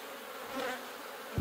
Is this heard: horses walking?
no